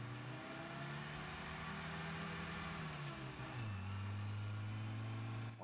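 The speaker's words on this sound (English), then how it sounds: "Hey, a car." A World War II era car engine in Call of Duty: United Offensive drones steadily at moderate distance, its pitch dipping midway as it shifts or slows, with no voices over it.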